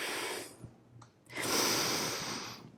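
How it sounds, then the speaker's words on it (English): Heavy, forceful breathing during a reformer pilates cardio exercise, with two long rushing exhalations separated by a brief quieter pause, heard close and alone. "getting control of that breathing"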